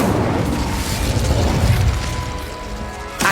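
A fiery Incendio spell blast bursts out in Hogwarts Legacy, a loud, sustained roaring whoosh with crackling noise that holds steady for a few seconds before a fresh burst at the end, with no talking.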